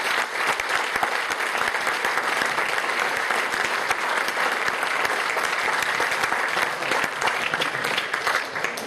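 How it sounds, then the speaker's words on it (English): Sustained audience applause fills a golf awards ceremony hall, a dense, steady clapping from a large crowd lasting throughout at even loudness, with no speech over it. "let's have a nice round of applause for Tim Rosaforte."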